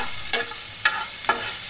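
Potatoes with a little salt fry in a pan in a loud, even sizzle. Three brief scraping stirs break through the hiss at regular intervals, and no voices are present.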